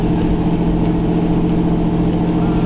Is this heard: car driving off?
yes